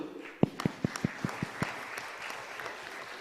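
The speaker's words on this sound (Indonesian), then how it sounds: "kasih tepuk tangan dulu" At a session of an Indonesian scholarly congress, a few distinct claps ring out one after another, then blend into a soft, steady round of audience applause.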